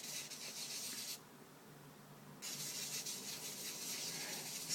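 Steady rasping rub of a slightly domed Chris Reeve Knives handle screw head worked in even circular motions for repair, close and continuous, with a short quieter stretch midway before the scraping resumes.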